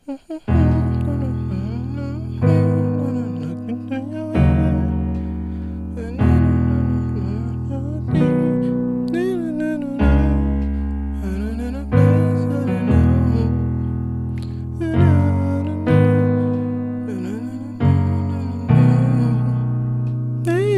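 Piano chords played in a slow, steady pattern with a singing melody line on top, sustained and resonant, no talking.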